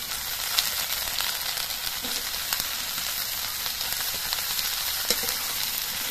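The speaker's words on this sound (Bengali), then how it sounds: "এবার এর মধ্যে আমি সব সবজিগুলো দিয়ে দিচ্ছি" Vegetables frying in a pan with ginger garlic paste, giving a loud, continuous close sizzle with faint stirring and a few light clicks throughout, no voices.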